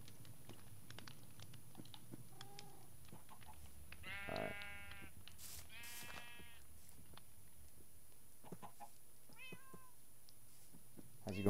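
Sheep in Minecraft bleat in short, quiet calls, two clearer bleats in the middle and fainter ones later, over a soft game background with no talking.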